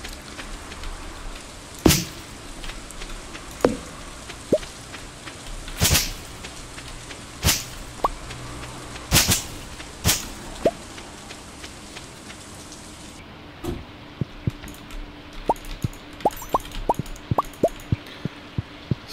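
Rain falls in the Stardew Valley farming game as a steady hiss, with loud, sharp drips and plops scattered across it that turn into quicker, brighter drops toward the end. No one speaks.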